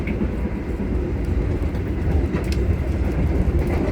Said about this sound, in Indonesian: Diinformasikan sesaat lagi kereta api Gunung Jati akan tiba di stasiun Jatibarang